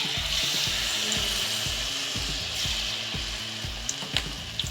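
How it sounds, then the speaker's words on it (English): Shrimp and corn bakwan batter frying in hot oil, a close, steady sizzle over a low rhythmic bubbling or motor-like pulse, with a few sharp clinks near the end. "And put the bakwan mixture in the hot oil."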